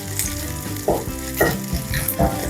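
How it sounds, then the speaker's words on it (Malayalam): Garlic and curry leaves fry in hot oil for a chena upperi, a bright steady sizzle with a few sharper bursts of crackle as the pan is stirred. "അതിൻ്റെ കൂടെ കുറച്ച് കറിവേപ്പില, വെളുത്തുള്ളി ഒന്ന് പൊരിഞ്ഞ് വരുമ്പോഴത്തേക്കിന്"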